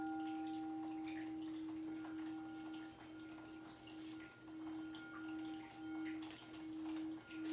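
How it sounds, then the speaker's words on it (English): A singing bowl ringing with a steady, pure sustained tone and faint overtones, quiet and close, the hum gently wavering in loudness as it resonates alone. "I have a singing bowl right here."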